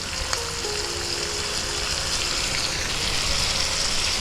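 Boiled taro stolons have just gone into a hot pan with a prawn masala and sizzle and crackle. The frying hiss is steady and continuous throughout, with no talking.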